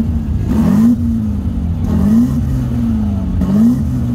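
A Chevrolet Omega's engine revs three times, each burst swelling briefly and then easing back to a steady, loud, close idle between revs, with no talking over it.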